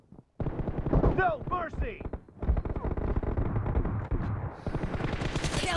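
Automatic gunfire in PUBG Mobile during a team deathmatch, loud rapid bursts starting after a brief silence and continuing almost nonstop, with a short shouted voice line and announcer speech over the shooting.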